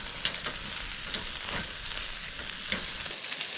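Skin-on food fries on a camp barbecue beside the Murrumbidgee River, giving a steady, even crackling sizzle with small pops throughout and no talk.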